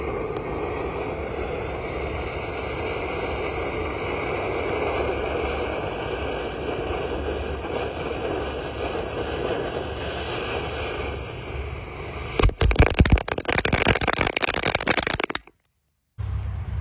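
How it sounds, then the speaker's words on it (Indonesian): A 4-inch conic fountain firework set in a hole in the ground gives a steady dense roaring hiss with crackle for about twelve seconds, then a loud burst of sharp crackling pops before cutting off abruptly. "Ini air mancur kerucut, ada pretek-preteknya bola warna-warni"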